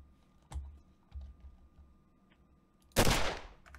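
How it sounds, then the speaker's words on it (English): A single sharp gunshot from the video game Condemned: Criminal Origins, loud and close, with a brief trailing decay after a few softer thumps. "I'm gonna shoot the gun out of his hand."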